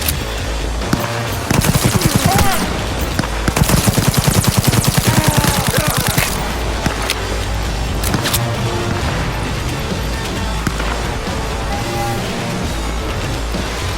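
Loud bursts of automatic gunfire from the video game Cyberpunk 2077 in a combat scene, with dense rapid volleys in the first few seconds, then scattered shots and sharp cracks over a continuous battle din.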